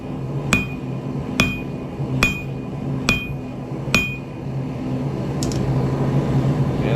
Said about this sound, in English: That's why I use the bean hammer. Now we're doing some flattening.